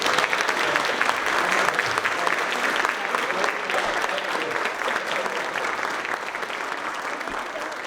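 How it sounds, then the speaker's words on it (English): A round of applause for high school student poets at a literary festival reading, a dense, sustained crowd clapping that stays loud and gradually eases off. "let's give them all a round of applause"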